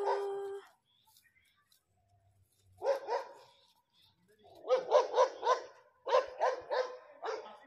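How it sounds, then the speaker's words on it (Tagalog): A neighbor's dog in Pakistan barks in short bursts: a single bark, then a pair, then rapid clusters of several barks, fairly close with quiet gaps between. "May aso ng kapitbahay"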